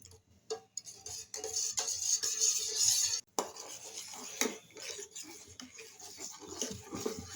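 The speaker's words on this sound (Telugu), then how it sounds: "మిక్స్ చేస్తూనే ఉండాలండి, లేదంటే కుట్టలు కట్టేస్తుంది." Spoon scraping and clinking against a pot while an energy drink mixture, with water and jaggery, is stirred; irregular close taps and scrapes with a sharp knock midway, steady and fairly quiet.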